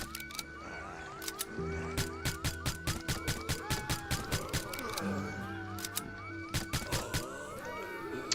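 Police car siren wailing in a zombie video game, a rapid repeating electronic yelp cycling steadily and loud throughout, with honk-like tones layered over it.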